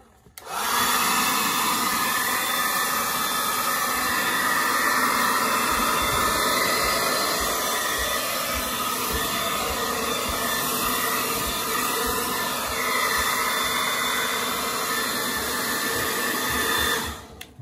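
A hair dryer blows steadily and loudly on turbine wheels being dried before painting, a continuous broadband whoosh with a high whine running unbroken and alone for about seventeen seconds.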